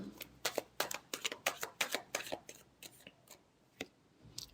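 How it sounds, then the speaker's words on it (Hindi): Tarot cards being shuffled by hand in a series of quick riffling bursts, about a dozen close crisp flutters that thin out toward the end, with no talking. "Last shuffle."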